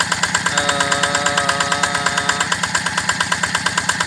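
A small Yanmar 8.5 HP diesel engine driving a 3-inch Ebara water pump runs loud and close, thumping in a fast, steady rhythm with a rattling, mechanical clatter throughout.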